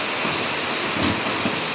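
Heavy rain pours down in Kumbakonam as a dense, steady hiss of falling water that fills the whole moment, loud and continuous with no voices.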